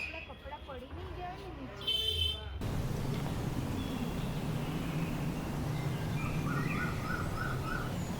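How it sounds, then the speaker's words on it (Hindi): Beside the Ganga at Rishikesh, a steady wash of flowing water fills the air while small birds chirp in short, repeated bursts; a voice speaks briefly at the start before the water and birdsong take over. "ये पंछियों के चहचहाट और पानी के लहरों की आवाज़"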